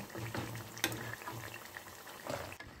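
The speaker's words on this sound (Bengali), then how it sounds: "উল্টে পাল্টে ভেজে নেব যতক্ষণ না গোল্ডেন ব্রাউন হচ্ছে" Pitha fry in a pan of white oil with added ghee, giving a soft, continuous bubbling and crackling sizzle with occasional small pops, heard close and fairly quiet.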